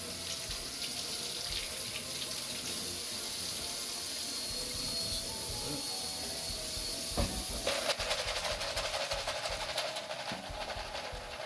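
Water runs from a tap into a sink of warm soapy water for washing keycaps from a Corsair K95 keyboard, a steady hissing flow with faint clinks and a louder splashing shift near the end.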